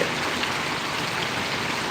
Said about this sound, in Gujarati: જોઈ લો તમે વરસાદ પરોવડીમાં વરસી રહ્યો છે